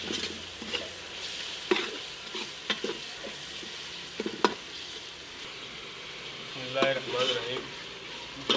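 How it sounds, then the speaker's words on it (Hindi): Spice masala with red chili powder and turmeric being fried and stirred in a pan for a mutton dish: a steady close sizzle with repeated scraping and clinking of a spoon, with faint voice sounds at times. "मसाला को भून लिया थोड़ा सा"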